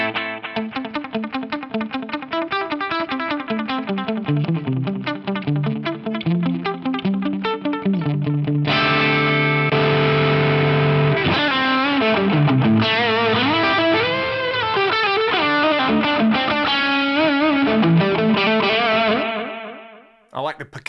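Guitar with a clean tone played through a Fractal Audio VP4 delay set near 300 ms with heavy feedback, notes repeating and smearing into a dense, slightly filtered wash; a continuous loud phrase that swells midway and stops abruptly near the end.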